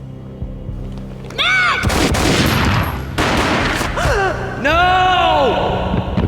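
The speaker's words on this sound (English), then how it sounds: "A gunshot boomed and she fell down in slow motion." Gunfire in the PC video game Max Payne (2001), heavy booming shots bursting out twice amid gasps and strained vocal cries, loud and close, with a dramatic layered mix.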